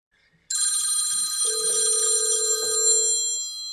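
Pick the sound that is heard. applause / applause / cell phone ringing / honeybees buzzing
cell phone ringing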